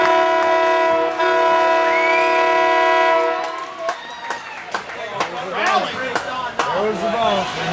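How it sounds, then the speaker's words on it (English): A goal horn at a high school varsity hockey playoff game blares loud and sustained for about three seconds, then cuts off as crowd cheering and voices take over. "Toot their horn, they get one on the board."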